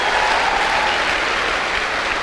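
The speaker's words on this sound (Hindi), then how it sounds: "जोरदार तालियां बजाइए मिस्टर योगेश यादव के लिए" An audience at a motivational seminar applauds loudly and steadily, a dense, continuous wash of clapping with no voices over it.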